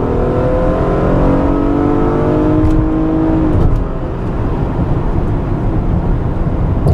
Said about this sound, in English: Now the V6 is a bit crude and noisy, but it does offer more than adequate acceleration in this vehicle.